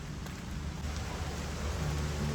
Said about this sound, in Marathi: आणि पाऊस मस्त जोराचा लागलेला आहे